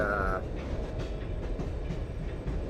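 A train rolling along in the video game Fallout 3, a steady rumbling ride with a brief higher tone at the start, heard on its own.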